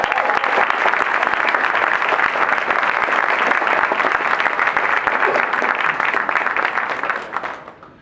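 Audience at a press conference for a football event breaks into sustained applause, steady and full for several seconds before tapering off at the end.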